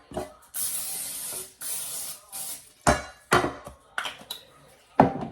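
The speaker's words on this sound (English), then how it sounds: "you wanna go back in with your cooking spray. Make sure you get it real good." A can of cooking spray hisses in several bursts, two long sprays followed by shorter quick spritzes, close and sharp, with light clatter in between, while greasing a cake pan.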